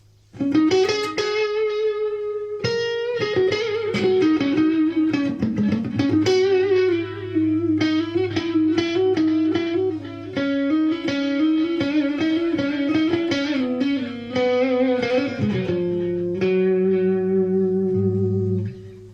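A Washburn V260 Parallaxe electric guitar on the neck pickup plays a warm, sustained, singing lead melody with bends and ringing notes, soaked in reverb and echo, loud and alone.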